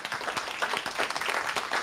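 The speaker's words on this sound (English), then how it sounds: "If we could please have another massive round of applause for Silvia" At a Brighton Python meetup, the audience applauds speaker Silvia after her talk with a steady round of many hands clapping, dense and moderately distant, and no talking over it.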